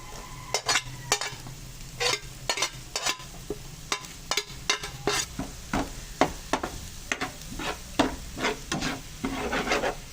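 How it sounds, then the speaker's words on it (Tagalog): Carrots sautéing in a pan with onion, sizzling softly while a utensil scrapes and stirs in a steady series of brisk strokes, close and fairly quiet with no talk. "dahil ginigisa na siya, halo ko na tong carrots."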